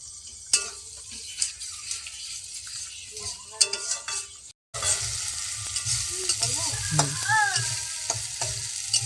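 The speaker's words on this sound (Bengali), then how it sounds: "মশলা বাটার জল একটু ছিল, ওটুকু দিয়ে ভালো করে নেড়ে নেব।" Masala paste with a little of its grinding water is stirred in a frying pan, with scraping and clinking spoon strokes over a soft sizzle that turns louder and steadier after a short break, close up with no talking.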